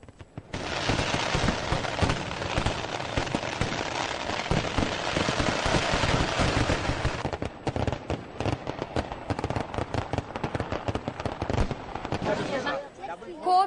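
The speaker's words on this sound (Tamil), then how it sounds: "கோவிலை சுற்றி பல கிலோமீட்டர் தூரத்திற்கு அதிர வைக்கும் சத்தத்துடன் வானில் வெடிகள் வெடித்து சிதறியதை" Temple festival fireworks exploding over the night sky in Kerala: a dense, rapid barrage of loud cracking bursts that later thins into irregular sharp bangs and crackles, with faint voices in the background.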